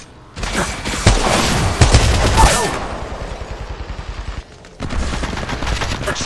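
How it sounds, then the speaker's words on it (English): Loud, close gunfire from the Apex Legends Mobile video game: dense automatic bursts and heavy booming shots, a rapid rattling volley, a brief pause, then firing resumes. "Shooting."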